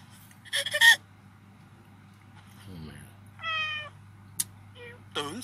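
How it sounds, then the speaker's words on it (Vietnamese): A domestic cat meows in a short series of rising calls, some fairly loud and others fainter, with a low steady hum underneath and other brief background sounds around them. "Tưởng gì chỉ là con mèo."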